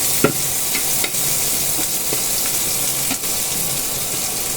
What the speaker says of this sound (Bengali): ডিম ভাজা তেলে দিয়ে দিচ্ছি কয়েকটা পেঁয়াজ, মাত্র 2টা পেঁয়াজ দিয়েছি, আর দিয়েছি 3-4টা কাঁচামরিচ।